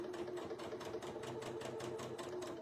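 A sewing machine stitching through foundation paper piecing, a quick steady run of needle strokes with a faint motor hum, quiet and close with no talking.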